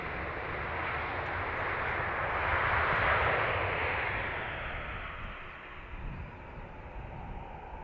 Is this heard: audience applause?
no